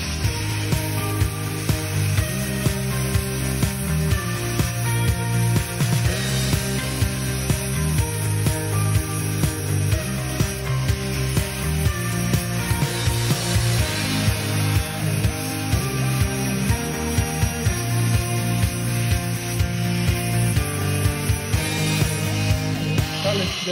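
A ceramic-grit sanding disc on a power tool grinds down weld spots, making a continuous loud, close, harsh rasping whine that holds steady for the whole stretch with no talk.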